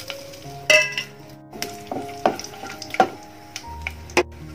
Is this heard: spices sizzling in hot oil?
yes